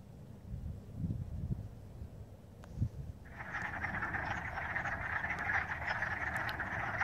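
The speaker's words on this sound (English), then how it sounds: "A bunch of wood frogs here mating in the spring in this pond." Wood frogs croak in a spring pond during mating, a dense, continuous chorus of rapid clucking calls that starts abruptly after a few seconds of low wind rumble and carries steadily to the end.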